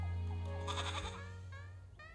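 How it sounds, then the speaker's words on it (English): A goat bleats loudly and close by, one drawn-out wavering cry that fades over about two seconds, heard alone with no talk. "Keep that goat over here."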